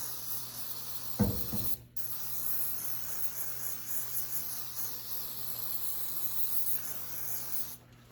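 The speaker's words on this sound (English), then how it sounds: "Take some brake clean." Brake cleaner sprays onto a part on a 1987 Ford Bronco II engine in a steady, hissing aerosol jet that lasts several seconds. A short clunk comes just before it, at close range and without talk.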